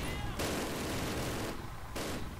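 Gunfire in the Call of Duty video game: a dense, continuous fusillade of loud shots with short bursts, filling the whole stretch with steady combat noise and no clear talk over it.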